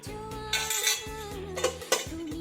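A metal lid set onto a cooking pot of potatoes and tomato in hot water, with a couple of light clinks and clanks of metal against metal over quiet background music.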